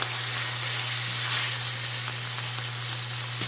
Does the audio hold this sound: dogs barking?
no